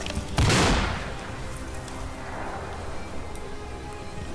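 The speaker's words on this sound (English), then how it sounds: "Shield guy is shooting." Gunfire from a shield-carrying enemy in a war video game: a loud close burst of shots opens the clip, then a steady rumble of more distant firing continues, with no talk.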